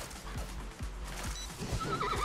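A horse in the video game Tokyo Jungle gives a short, loud whinny with hoof clip-clops, heard alone over a game background.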